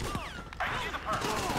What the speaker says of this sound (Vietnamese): Sự găng này bắn gần mạnh ghê luôn các bạn ơi